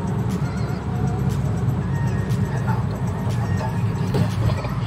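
A 1994 Toyota Corolla sedan with a freshly cleaned engine drones steadily as it accelerates, a continuous loud road and engine rumble with no distinct revs standing out.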